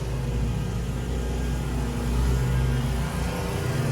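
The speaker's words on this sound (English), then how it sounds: "Sorry about the truck." A truck rolls past outside a townhome development, a loud, deep rumbling drone that swells slightly near the middle before easing, with no voices over it.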